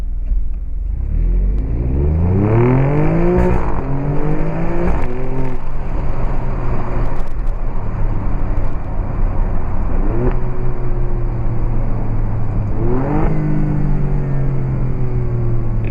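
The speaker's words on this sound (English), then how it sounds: "upshift blips and pops and gargles that the exhaust does once you open it up in the race mode" An Alfa Romeo Stelvio Quadrifoglio exhaust in race mode roars loudly through repeated hard acceleration runs. Rising engine notes climb and break at upshift blips, with pops and gargles between pulls and no talking.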